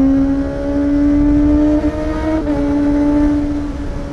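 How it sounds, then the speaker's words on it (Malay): A fogging vehicle passes close by with a loud, steady engine drone and a strong tonal whine that dips slightly as it goes past, with no voices. "Kereta fogging."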